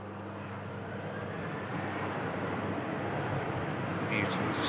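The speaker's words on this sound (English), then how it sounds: "Beautiful, stunning Qatar A350 entering the active second runway 23 left here at Manchester Airport." Qatar Airways Airbus A350 on the runway at Manchester Airport, a steady distant jet engine rumble that grows slightly louder, with a brief faint higher noise near the end.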